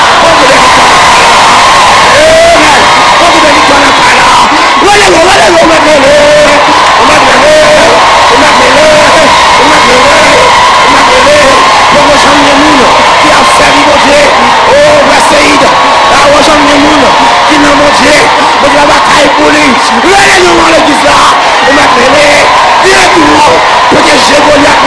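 A crowd at a church service shouting and cheering in victory, a loud continuous wall of yells and whoops with a voice rising above it throughout.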